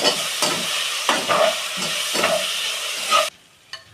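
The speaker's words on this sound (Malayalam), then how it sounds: "ഇതിലേക്ക് നമുക്ക് മൂന്ന് spoon tomato sauce mix add ചെയ്യാം എന്നിട്ട് നമുക്ക് ഇത് കൂട്ടി യോജിപ്പിക്കാം" Spatula stirring soya chilli fry with tomato sauce in a hot pan, rhythmic scraping strokes roughly every half second over a steady sizzle, close and fairly loud, ending abruptly.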